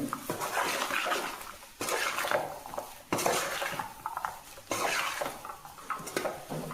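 A spoon stirs a cauliflower and chana dal fry in a pan, making rhythmic scraping sweeps that repeat roughly every second and a half. The gritty, close texture is steady, with no voices.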